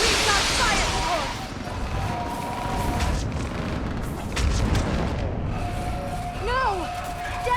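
Artillery fire support pounds a battlefield in the Mass Effect 3 video game, a dense continuous roar of booms and blasts with whistling streaks overhead, loud and close throughout.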